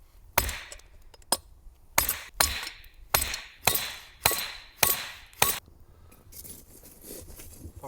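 Hammer blows on an anvil during winter-camp forging, about eight sharp ringing metallic strikes spaced roughly half a second to a second apart, loud and close with no talk.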